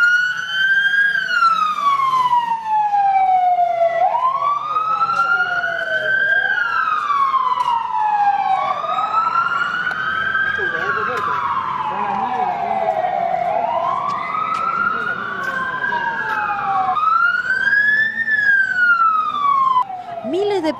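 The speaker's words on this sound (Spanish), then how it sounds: "desde que las sirenas de ambulancias y bomberos comenzaron a sonar" Wailing ambulance and fire engine sirens sound loud and continuous throughout a night earthquake drill in Chancay, several overlapping tones rising and falling in long sweeps.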